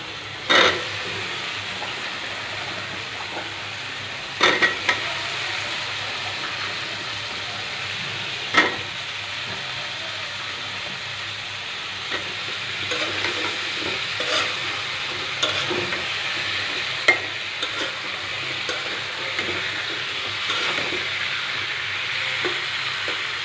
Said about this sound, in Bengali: এখন আমি ডাটাগুলো দিয়ে কষায় নেব।